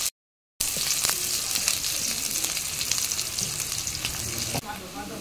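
Onions hitting hot oil in a Bengali home kitchen: a brief silence, then a sudden loud, dense sizzle that crackles steadily and eases slightly near the end.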